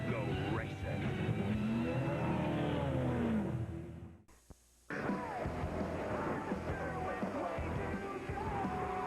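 NASCAR Nextel Cup stock cars racing at Michigan in the GFS Marketplace 400 in 2004, engines roaring and revving with shifting pitch, broken by a brief near-silent gap, mixed with crowd and announcer voices.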